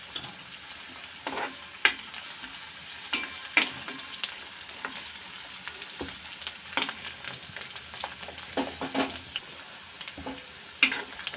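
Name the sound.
chopped onion frying in oil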